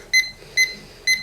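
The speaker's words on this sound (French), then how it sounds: "je vais mettre mon minuteur pendant 20 minutes" A kitchen timer being set for baking a milk cake, giving three short, evenly spaced electronic beeps close by.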